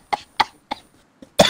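Five sharp coughs come in quick succession, close and fairly loud, with short gaps between them and the last one the strongest.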